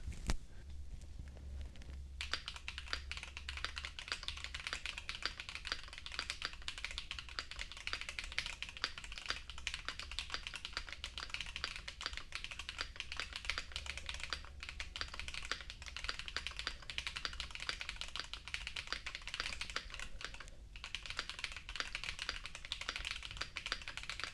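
Continuous fast typing on a clacky OnePlus Keyboard 81 Pro mechanical keyboard, crisp keystrokes in a steady stream, close and alone without speech.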